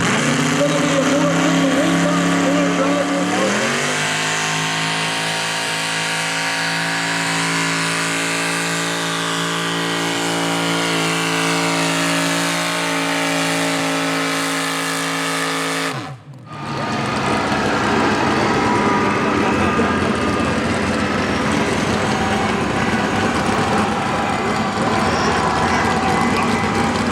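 An A mini class tractor-pulling rod with a big methanol-burning engine runs loud and steady, its pitch climbing as it pulls. The roar cuts off abruptly, then broad mechanical noise and crowd sound continue.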